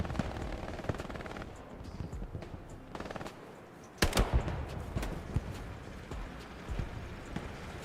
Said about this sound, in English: Pumping that grease gun for all it's worth